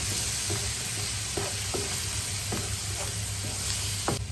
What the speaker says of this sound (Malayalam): 1/2 ടീസ്പൂൺ ഗരം മസാല ഇതിലേക്ക് ഇട്ട് കൊടുക്കണം. എന്നിട്ട് നല്ലതായിട്ടൊന്ന് ഇളക്കി കൊടുക്കണം.